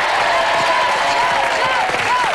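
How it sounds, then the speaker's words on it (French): A studio audience claps loudly and steadily at a 1999 French TV game show, a dense wash of applause with cheering mixed in and a voice talking over it. "Je veux qu'on applaudisse très fort l'ami Jojo."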